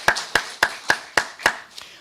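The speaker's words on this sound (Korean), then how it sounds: "우리 함께 같이 영광의 박수를 올려드리시겠습니다" A church congregation claps together in unison during a Sunday worship service: seven sharp, evenly spaced claps at a steady beat, the last one softer, with no talk over them.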